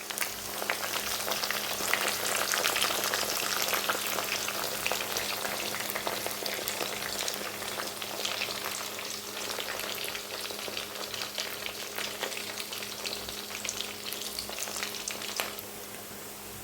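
Cauliflower deep-frying in hot oil with curry leaves added, a loud, steady, crackling sizzle that holds evenly throughout without any speech.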